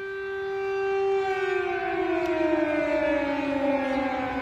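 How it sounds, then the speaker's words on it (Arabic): A loud, wailing air raid siren in Kyiv holds a steady tone, then slowly slides downward, sounding from a distance with no voices. "هل من النادر في العاصمة كييف سماع دوي صفارات الإنذار كما يحدث الآن"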